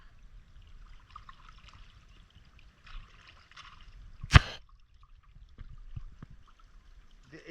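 Water trickles along a narrow irrigation channel across dry fallow land beside a pond, planted with tomato and papaya. The flow is faint and steady, with one sharp knock about halfway through.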